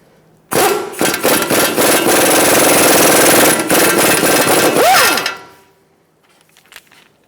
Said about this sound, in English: we're going to use a 17mm socket and we're going to take off the tie rod nut